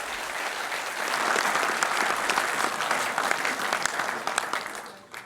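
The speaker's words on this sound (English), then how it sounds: "Applause." Sustained audience applause at a US ambassador's defence debate appearance, a dense steady roar of many clapping hands that fades out near the end.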